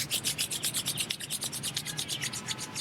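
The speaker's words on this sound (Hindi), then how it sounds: "फिर अपने हाथों को रब करें।" Hands are rubbed briskly together during a yoga session, a quick, even series of soft close-up swishes of about eight strokes per second, alone without talk.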